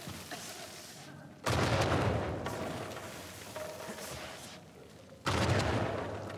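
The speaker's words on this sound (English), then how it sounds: "I'm getting really sick of these freaking explosions." Video game explosions and gunfire in Uncharted 4, with two loud booming blasts that each hit suddenly and then decay into rumbling debris and crackle, amid scattered shots.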